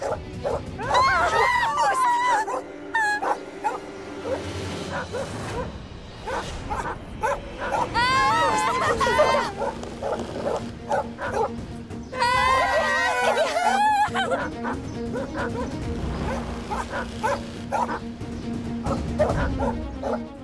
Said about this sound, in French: ce chien féroce va faire sa 25e victime